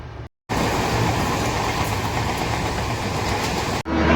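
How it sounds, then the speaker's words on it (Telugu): Kutch Express passenger train at Bandra Terminus, Mumbai, with a steady, loud rumble of rolling rail cars that runs continuously after a short dropout near the start. "సో నేను ఎక్కిన ట్రైన్ ఇదే గైస్, కచ్ ఎక్స్ప్రెస్."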